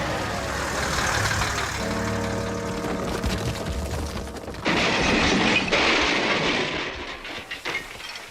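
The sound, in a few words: quarry lorry crashing on a steep road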